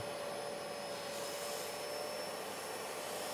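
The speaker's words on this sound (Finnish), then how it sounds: "suutin imuroi likaista nestettä likavesisäiliöön" A Hagerty textile washer nozzle sucks dirty liquid up into its tank with a steady, loud motor whine and airy rush, unbroken and alone throughout.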